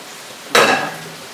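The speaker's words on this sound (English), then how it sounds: "I'm going to put the Bombay potatoes into there." Bombay potatoes tipped into a pan of curry sauce, one sudden loud clatter and splash followed by a brief fading sizzle and scrape, close by, no talking.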